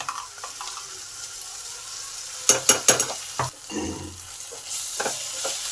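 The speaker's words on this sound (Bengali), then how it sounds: "মশলাটাকে ভালো করে আম আর আলুর মধ্যে মিশিয়ে দিলাম" Ground paste of mustard, green chili, cumin and ginger stirred into boiled mango and potatoes in a pan: a few scraping, clattering strokes over a soft sizzle, close and moderately loud, with no voices.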